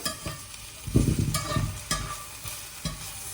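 Leafy greens frying over medium heat are stirred in a pan, bringing a few close scraping and tossing strokes over a soft steady sizzle, with no voices.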